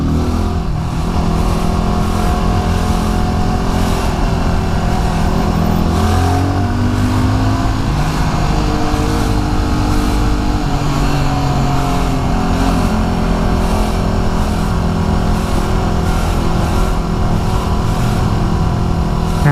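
Motorcycle lane splitting through stopped car traffic in Los Angeles, its engine droning loud and close throughout with pitch shifts as it squeezes between vehicles, dense traffic rumble all around.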